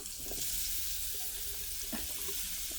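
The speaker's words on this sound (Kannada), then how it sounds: "ಇದನ್ನು 1 ನಿಮಿಷ ಇದೇ ಥರನೇ ಫ್ರೈ ಮಾಡ್ಕೋಬೇಕು." Paneer with masala fries in a pan, giving a dense, steady sizzling hiss with a few faint stirring scrapes beneath it, close and continuous through the short stretch.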